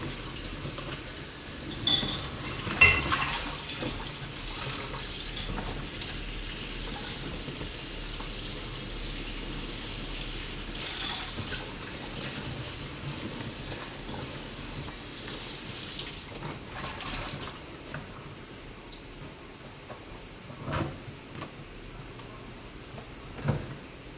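Tap water runs steadily into a sink while dishes, cups and bowls are washed, with occasional clinks of crockery and cutlery near at hand; the flow stops toward the end, leaving scattered knocks.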